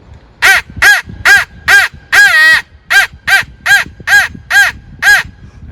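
A crow call imitated on a caller for turkey hunting: about a dozen loud, evenly spaced caws, one longer rattling caw near the middle, with nothing else around.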